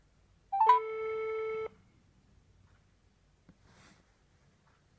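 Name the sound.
telephone ringing tone on a call to an employer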